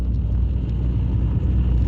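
A car rolls through a red light at a city intersection, heard as a steady low road rumble and engine drone with wind buffeting the microphone, no distinct pass-by.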